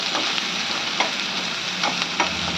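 Vegetable thoran fries in coconut oil while being stirred, producing a continuous close crackling sizzle with a few brief scraping strokes through the pan.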